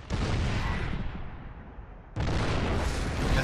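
Siege tanks in the StarCraft II video game fire artillery at enemy cannons, two heavy booming blasts with rumbling decay, the second hitting sharply after a brief lull, loud and close.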